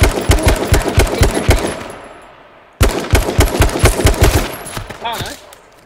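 AK rifle gunfire in the video game H1Z1 rips out in two loud, rapid bursts of evenly spaced shots, with a short pause between them and a fading tail at the end.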